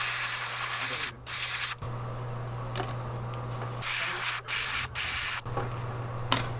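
An aerosol spray can hisses in repeated bursts of a few seconds each, close up, painting a homemade fishing crankbait lure, separated by brief pauses, over a low steady hum.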